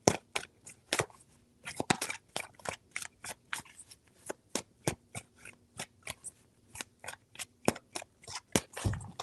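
Tarot cards being shuffled by hand, a rapid series of crisp, sharp riffling snaps and slaps close up, repeated in quick irregular bursts with brief pauses between.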